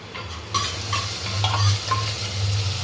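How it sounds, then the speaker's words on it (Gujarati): Garlic and cumin tempering in hot oil for urad dal: a steady, close, crackling sizzle that runs throughout with no talking. "લસણ ને જીરું ને નાખી દીધું મેં."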